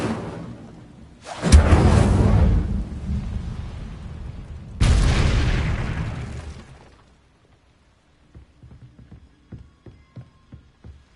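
Incendio fire spell cast in the video game Hogwarts Legacy: two loud, roaring fiery bursts with a whooshing rush, each trailing off over a few seconds, followed by faint scattered clicks and taps.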